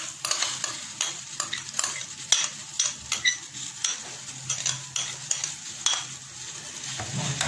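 Tomato paste is stirred into homemade pizza sauce in a pan, with a spoon scraping and tapping the metal in an irregular rhythm over a soft, faint sizzle.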